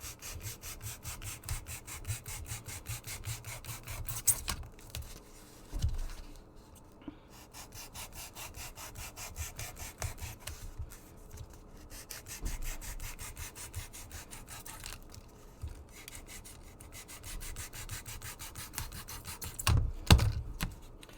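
A saw cuts the edges off a homemade LARP kukri in steady back-and-forth strokes, close and fairly loud, with brief pauses and a few louder knocks near the end.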